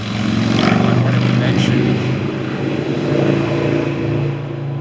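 A stock ATV engine with a loud muffler drones and revs steadily nearby, a buzzy, harmonic-rich exhaust note holding strong throughout with slight rises in pitch.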